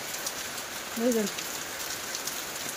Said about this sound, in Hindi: देखिया बाहर केते जोर वर्षा होची